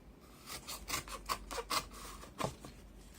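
Cardboard being cut by hand for a two-part mold box, a series of short scraping, rasping strokes in an uneven rhythm, close and fairly quiet.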